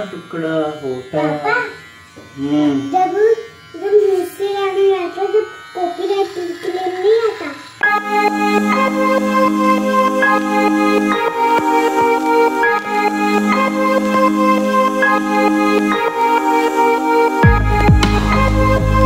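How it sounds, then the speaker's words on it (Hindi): Electric beard trimmer buzzing steadily and loudly for about eleven seconds close by, after someone speaks Hindi briefly at the start. "तो गाइज अभी करता हूँ ट्रिमिंग।"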